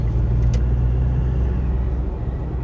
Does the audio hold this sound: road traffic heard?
yes